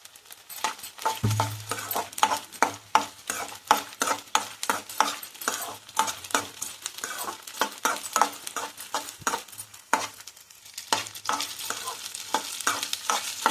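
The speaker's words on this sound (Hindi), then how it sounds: "हमने फिर से अपने घी में अपनी जो गोंद है वो भून ली है" Edible gum (gond) roasting in ghee in a pan for dry fruit laddu, a steady crackling sizzle with constant stirring and scraping of a utensil, close and busy throughout.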